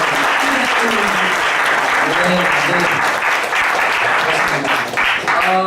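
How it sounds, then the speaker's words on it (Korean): A church congregation claps steadily and loudly throughout a Korean Sunday worship service, a dense continuous applause with voices heard beneath it. "박수도 한번."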